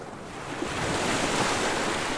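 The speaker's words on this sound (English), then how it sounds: "the water began to churn fiercely and the sky darkened" Sea water churns and waves surge in a steady, building roar of broadband rushing noise, with wind-like hiss rising over a couple of seconds and no voices.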